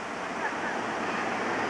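Water rushing through a narrow opening to turn a spring-fed mill at Alley Springs, Missouri, a loud, steady broadband roar of flowing water close by, unbroken throughout.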